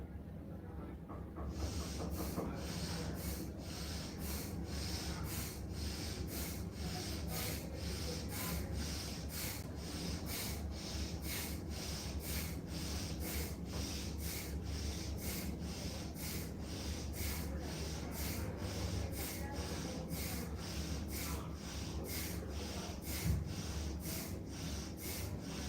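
Forceful rhythmic pranayama breaths, rapid and evenly spaced like steady bellows, with sharp hissing exhalations repeating close and loud throughout over a continuous background.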